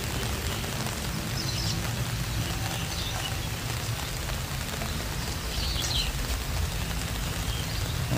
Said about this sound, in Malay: Kebetulan suasana hari ini lagi hujan.